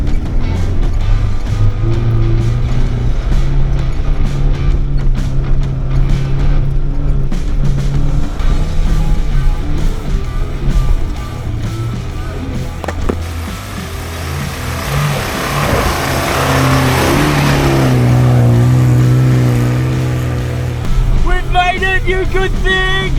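Four-wheel-drive vehicle engine held flat out in second gear on a snowy high-country road, a loud, steady droning roar that swells and eases over time, with people talking inside the cabin.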